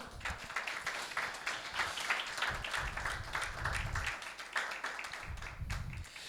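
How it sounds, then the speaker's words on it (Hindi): A church congregation at a Sunday service claps together for Jesus, a dense, steady patter of many hands lasting several seconds with no voices over it. "हालेलुया, यीशु के लिए तालियां बजाएं।"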